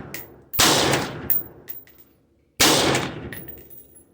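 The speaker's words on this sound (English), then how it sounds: "we're showing the strengths of the AR-15. It's a lightweight, light recoiling, suppressive weapon." AR-15 rifle fires at a 50-yard fire superiority drill, two loud, sharp bursts of rapid shots about two seconds apart, each ringing and echoing as it fades, with no talk.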